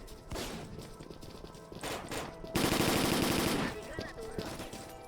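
Sustained automatic gunfire from the S.T.A.L.K.E.R.: Call of Pripyat video game, rapid bursts that build into a dense, loud volley midway, over a busy game soundscape.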